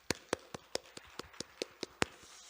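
A church congregation clapping hands in a steady, rhythmic beat, about ten crisp claps in quick succession, close and distinct against a quiet background with no talk.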